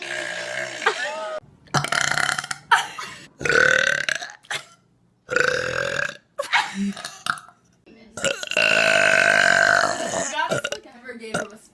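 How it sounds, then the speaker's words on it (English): A girl lets out several loud burps in a row, some long and drawn out, close to the mic, with other people talking and laughing between them at a party with beer. "You gotta burp."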